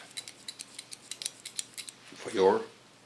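Scissors snip hair in a quick, regular series of crisp, close cuts using a soft slice technique on a man's haircut, followed by a brief voice at the end.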